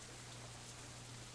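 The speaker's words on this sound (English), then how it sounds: "Raindrops hitting the umbrella make a distinctive sound, playing the staccato melody of rainfall for nobody in particular" Rain falling on an umbrella in the visual novel Katawa Shoujo, a soft, steady, even hiss of dense raindrops, fairly faint and continuous with no talk.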